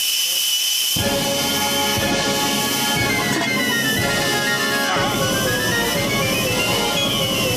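A pressure cooker whistles with a loud, continuous hissing steam blast of shifting pitch, venting hard nonstop.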